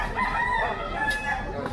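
Rooster crowing by a chicken coop, one drawn-out crow at moderate distance over steady background noise.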